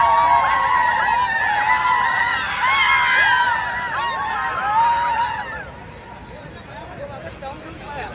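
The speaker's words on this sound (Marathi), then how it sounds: "इकडे आपल्याला जल्लोष पाहायला मिळतोय वांगोली गावठणवाडी संघाचा." A winning village cricket team celebrates with loud cheering and whooping from a close crowd, shouts layered over one another before the noise eases off partway through.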